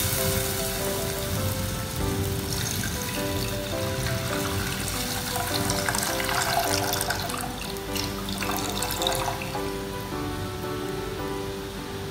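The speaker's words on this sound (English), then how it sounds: "Let's add water." Water poured into a pot while cooking rava kanni, a semolina porridge, sounding as a steady, close splashing pour that runs continuously and eases off near the end, with no talking.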